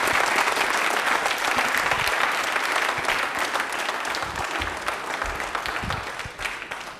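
Loud, sustained applause from a live quiz show audience on Ambedkar Jayanti, filling the hall steadily for several seconds as a contestant named Manisha is cheered for a correct answer.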